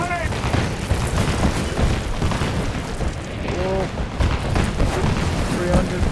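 Enemy artillery fire and explosions in Marvel's Avengers video game thunder in repeated heavy booms and rumbling blasts, close and loud, while a voice briefly exclaims over the barrage.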